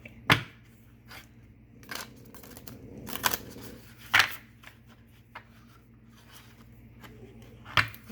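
Gita oracle deck cards are shuffled clumsily, with scattered sharp slaps and flicks at irregular intervals between quieter rustling, close by and otherwise quiet.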